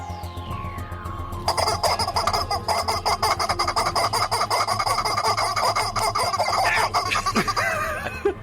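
A chicken toy clucks when punched, giving a loud, continuous squawking cackle for about seven seconds after a brief rising whistle, close and alone.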